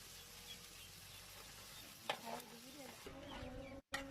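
Meat sizzles and is stirred into a spice paste in a pan, a soft steady frying hiss with a few scraping stirs and a voice talking quietly over it.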